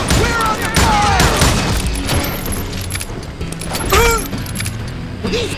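Rapid bursts of Western-style gunfire from the shooter game Call of Juarez Gunslinger, sharp overlapping shots crackling in quick succession amid other effects, with voices shouting over the battle.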